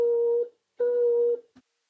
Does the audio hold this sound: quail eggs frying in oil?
no